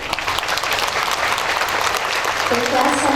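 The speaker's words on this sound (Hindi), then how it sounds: "गीत के साथ साथ तालियां बजेंगी" A Brahma Kumaris stress-relief session audience claps along as a song plays, dense loud applause running throughout with singing or talk mixed in beneath.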